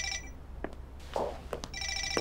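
A mobile phone rings from inside a bag, its electronic ringtone repeating in short bursts at moderate loudness with no one talking over it.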